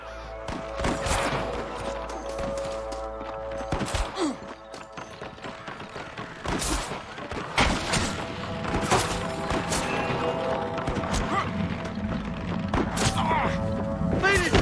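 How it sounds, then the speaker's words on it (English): Gunshots crack out in Red Dead Redemption, several sharp scattered reports spread across a shootout with in-game voices and background game sound between them. "I can hear more gunshots."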